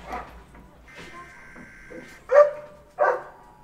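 Dogs bark indoors in a house, a few short, muffled barks in the background, the last two louder and closer, over faint voices.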